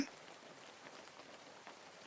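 Cartoon rainfall: a steady, soft hiss of rain falling on a surface, continuous and fairly faint throughout, with no voices.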